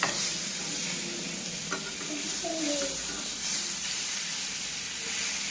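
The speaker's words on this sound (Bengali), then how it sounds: "আমি এই মাছগুলো এইভাবে ভেজে নেব।" Katla fish sizzling as it fries in a pan, a steady close hiss and crackle with faint stirring clinks throughout, no talk.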